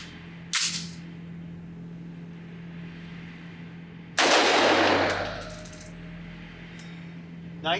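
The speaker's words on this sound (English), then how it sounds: "we will shoot this suppressed and unsuppressed with both types of ammunition" Rifle fitted with an OSS HX-QD Magnum Ti flow-through suppressor firing magnum rounds at a range: two loud, sharp cracks a few seconds apart, the second followed by a lingering rumble, with a steady electrical hum underneath.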